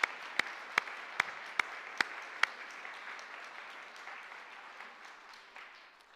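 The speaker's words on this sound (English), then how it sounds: "We'll give them another big round of applause." Congregation applause in a Presbyterian church, opening with several loud, distinct claps in a steady rhythm before settling into a softer, continuous patter of clapping that slowly thins out.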